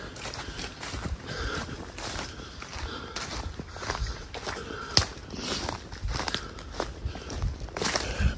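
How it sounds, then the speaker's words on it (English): A large pack of foxhounds runs through a forest during a traditional fox hunt, their paws padding and crunching over the ground in a steady, busy patter with occasional sharper thumps, close by and fairly continuous. "Big old pack of hounds"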